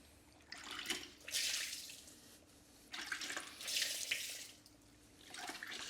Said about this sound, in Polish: Płuczemy.